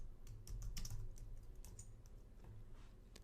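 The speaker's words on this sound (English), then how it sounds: "You could type uname -a," A short run of keystrokes on a computer keyboard enters a Linux terminal command, producing irregular soft clicks over a low background hum, close and fairly quiet, with no talking.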